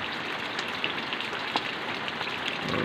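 Steady light rain falls on a rainy Sunday morning, a dense, even patter of drops on surfaces with a few slightly louder nearby drips, continuing without pause.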